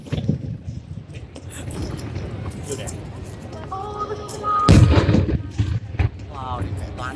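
A large firework explodes with one deep, loud boom and a crackling tail partway through, while crowd chatter and background bustle continue throughout.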